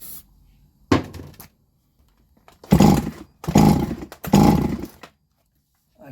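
A Solo 654 chainsaw sputters briefly, then fires in three loud close bursts of engine roar, each cutting out abruptly as it struggles to keep running.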